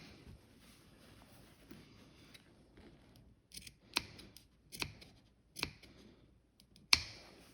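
Sewing shears snip into fabric around a neck facing in a few sharp, crisp cuts, spaced out over a quiet background and sounding close.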